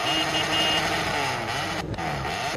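A Honda F800 motorcycle in a video game holds at its rev limiter, a dense buzzing engine note that stutters and bounces as the ignition cuts, close and loud throughout.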